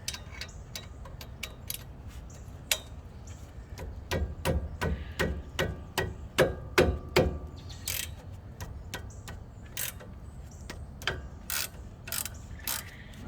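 A hand wrench works the brake caliper bolt on a Nissan Titan during a front rotor and pad job, giving a run of sharp, close ratcheting clicks and metallic taps in an irregular rhythm, with no talk.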